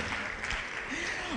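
Audience applause at a conference, a dense, steady wash of clapping lasting the whole short moment, with a voice faintly audible over it.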